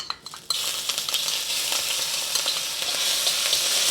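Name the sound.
ginger sizzling in hot oil in pan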